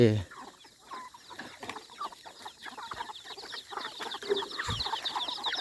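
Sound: chickens clucking

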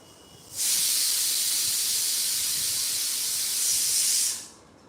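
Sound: pressure cooker hissing steam

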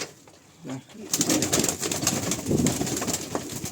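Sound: pigeons cooing in a loft

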